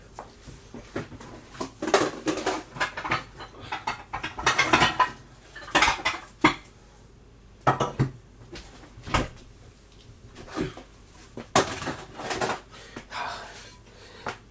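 Lemon buns for Yorkshire lemon buns are set one by one into a baking dish, giving a run of close clinks, scrapes and knocks of crockery and utensils with short pauses between, and no talking.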